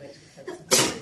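A single sharp sneeze bursts out near the end of a short stretch of quiet classroom talk during an engineering lecture, close and fairly loud.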